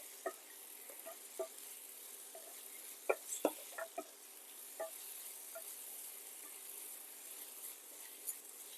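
Grated raw green mango sautéing in a pan with peanuts or chana dal, a faint steady sizzle broken by scattered crackles and light stirring taps, no voices.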